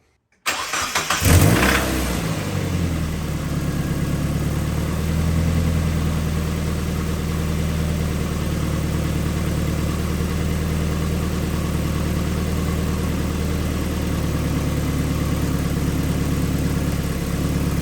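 A Mazda Miata engine cranks and catches with a loud roar, then settles into a steady, rumbling idle that runs on evenly.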